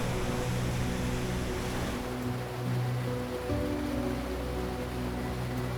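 The Petrohué waterfalls in Chile pour over old lava formations with a loud, continuous roar of rushing water, steady and dense throughout, with no voices.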